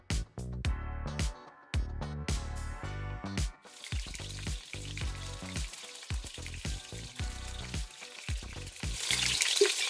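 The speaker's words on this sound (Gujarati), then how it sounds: "ચાલો ત્યારે વઘાર કરી દઈએ એના માટે બે ચમચા તેલ લઈશું" Whole cumin seeds crackle and pop in two spoons of hot oil in quick bursts, then a steady, loud sizzle settles in.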